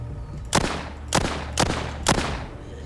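Four gunshots from the zombie shooter game The Walking Zombie 2, fired at steady half-second intervals, each a sharp broadband crack with a short decaying tail, loud and alone with no talk.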